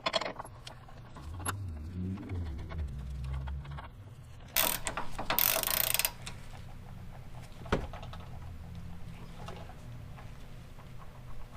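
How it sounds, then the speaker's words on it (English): Hand tools work on a Trailblazer SS front end while new sway bar bushings and end links go in, giving close metallic ratcheting, clinking and clattering over steady background noise, with a few sharper bursts partway through. "We got the new sway bar bushings installed, got the new sway bar end links installed."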